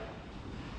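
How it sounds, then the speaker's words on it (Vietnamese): Strong wind at night rushes through tree leaves in a short, steady, close burst of rustling that buffets the microphone. "gió dữ lắm. Đó, các bạn nghe không? Lá cây đồ nó xào xạc"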